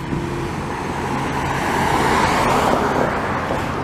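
A car passes close by on a Montreal street in Park Extension, its tire and engine noise swelling to a broad peak midway and then easing off amid general traffic sound.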